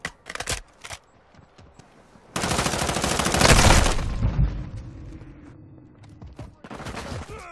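Gunfire in a military shooter video game: a few sharp shots, then a loud sustained burst of automatic fire with shattering crackle that tails off, followed by more scattered shots.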